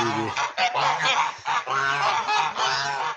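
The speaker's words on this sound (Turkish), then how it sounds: "Bu da Tovuz gazanımız." Tovuz breed geese honking close by on a farm, loud repeated nasal honks that overlap in quick bursts with short gaps between them.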